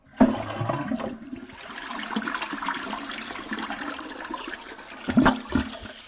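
A toilet flush sound effect plays on a podcast, a sudden rushing splash followed by a sustained churning, gurgling drain that surges again near the end, heard alone without talk.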